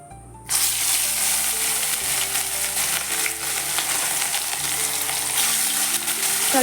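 Fish rubbed with salt and turmeric drops into hot oil and bursts into a loud, steady sizzle that crackles on without pause, close by and with no voices over it.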